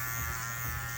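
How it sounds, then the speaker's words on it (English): An Andis Cordless Master hair clipper cutting hair gives a steady close electric buzz with a bright metallic hum, running alone and unbroken. "the ching ching ching sound when you're cutting the hair"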